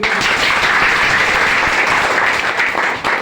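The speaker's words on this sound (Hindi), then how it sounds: "एक बार जोरदार ताली हो जाए।" Loud, close applause from a gathered crowd at a product demonstration, a dense burst of clapping that holds steady before tapering slightly at the end.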